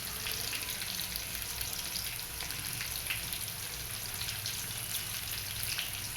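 Cumin seeds crackle and sizzle in hot oil in a home kitchen pan, with mustard seeds added just before; a steady, close, dense frying hiss runs throughout with no talk.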